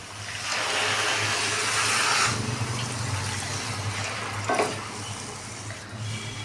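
Water pours into a hot pan of frying goat meat curry with a loud hissing rush, then the sizzle settles into a steady bubbling simmer with a faint clink.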